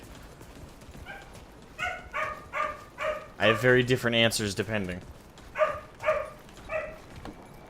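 Dog barking indoors, a series of sharp yips and barks in a rhythmic run that swells into a louder cluster midway, with a person talking over it.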